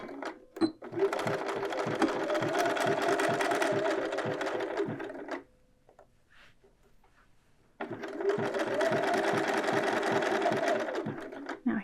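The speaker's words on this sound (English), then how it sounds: "And we are going to sew from the edge." A sewing machine runs in two steady bursts of rapid stitching, separated by a brief quiet pause, while edge stitching the binding on a garment armhole.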